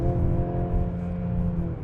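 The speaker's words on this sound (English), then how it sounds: "whenever I get off the accelerator, I'm still hearing that revving." The inline four-cylinder engine of a 2026 Mercedes-Benz GLC 300 4MATIC in sport mode gives a steady, low droning hum with a constant pitch, heard from inside the cabin without any speech.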